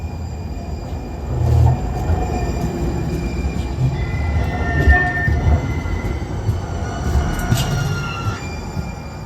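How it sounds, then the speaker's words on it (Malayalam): A tram rolls past on rails with a heavy rumble, metallic squeals and clatter rising and fading, close and loud. "റോഡിലൂടെ പോകുന്ന ട്രെയിൻ സർവീസാണ്"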